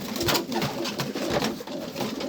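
Racing pigeons coo close by in an aviary, a continuous, overlapping throaty cooing with soft rhythmic pulses.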